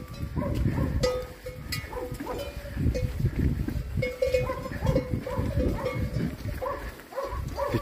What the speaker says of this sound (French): encore des vaches